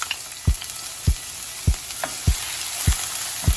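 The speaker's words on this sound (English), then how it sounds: "sauteing our veggies. Medium high heat, but I'm gonna turn it down a little bit" Vegetables sautéing in a pan over medium-high heat, a loud continuous sizzle punctuated by six regular low thumps of stirring, about one every half second to second, with no speech.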